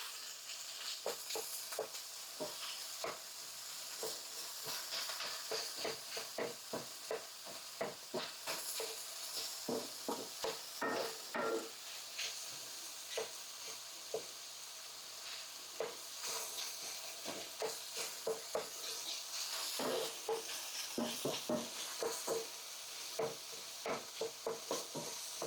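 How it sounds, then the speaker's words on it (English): Sausage and diced onions frying in a skillet: a steady close sizzle with frequent scraping and clicking stirring strokes throughout, no talking. "I'm just going to cook that until the onions are soft and a little translucent"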